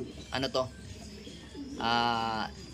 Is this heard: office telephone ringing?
no